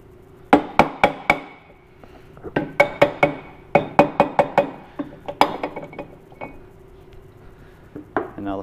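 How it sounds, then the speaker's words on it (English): A plastic hammer taps on the flywheel of a Kohler Courage XT-7 small engine during a rebuild, giving bursts of sharp, close metallic knocks in quick groups of three to five, with short pauses between. "taking a plastic hammer"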